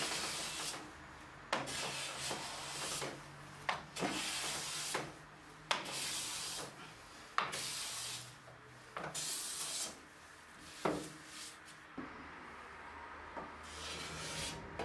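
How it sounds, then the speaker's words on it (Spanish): Smoothing hand plane shaves the faces of a wooden panel for a traditional tool chest, repeated long hissing strokes about every one to two seconds, each ending with a soft knock, close and alone. "Con un cepillo alisador, limpio las caras del panel."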